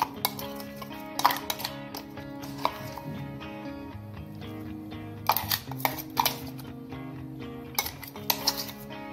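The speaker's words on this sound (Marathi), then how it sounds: "आता सगळे इन्ग्रेडियंट घातलेलं एकजीव करून घ्यायचं" A spoon scraping and clinking in a steel bowl while mashed peas, spices and chili are mixed into a paratha filling; irregular metallic taps and knocks with short bright clatters, close and fairly quiet.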